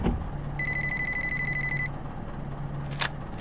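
A phone rings in the game Sub Rosa, an electronic trilling ring lasting about a second and a half over a low hum, followed by a short click near the end.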